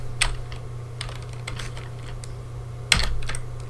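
Computer keyboard typing while entering a build command, a steady run of small clicks and key taps with a sharper burst near the end, close and clear over a faint background hum.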